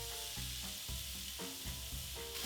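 Broccoli and garlic sizzle loudly in hot olive oil in a skillet, a dense, constant crackling hiss with faint stirring thumps underneath and no voice.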